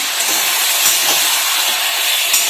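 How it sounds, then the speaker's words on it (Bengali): Chicken pieces fry in oil over a high flame, a loud, close and continuous hiss that stays even from start to finish, with no talk. "আর মাংসটা ভাজার সময় একটু হাই ফ্লেমেই ভাজবেন"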